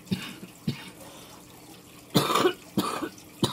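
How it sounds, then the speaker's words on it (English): Several sharp coughs from a person nearby: two short ones, a pause, then a longer rough burst followed by two more quick coughs, loud against a quiet room. "Sorry, I'm still got this cough."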